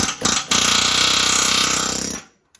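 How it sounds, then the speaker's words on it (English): A pneumatic air hammer rattles in a rapid, continuous burst for about two seconds after a couple of short starts, loud and close, working on a tractor bucket quick-attach conversion. "I'll get the air hammer."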